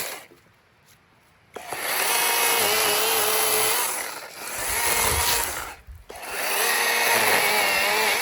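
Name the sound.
electric saw trimming the edges of a log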